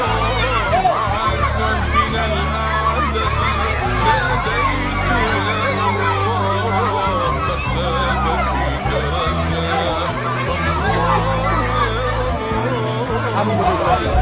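A dense, loud crowd clamours without pause at a bread distribution in Gaza, a thick wall of overlapping voices and shouts, with children's voices and occasional laughter in the mix.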